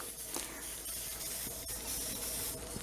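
Continuous hissing of an aerosol can spraying close by, a steady loud whoosh lasting throughout with slight variations.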